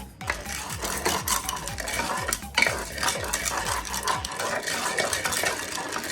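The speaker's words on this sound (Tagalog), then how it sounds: "ilagay natin ang corn kernel" Corn kernels tumble and stir in hot oil in a pot for popcorn, a close, busy rattling and scraping with a repeated rhythmic clatter and faint sizzle, no voices.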